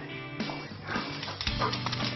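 Guide dog Tracker, out of harness and playing, gives excited barks and whimpering yips at close range in an irregular burst with some background noise.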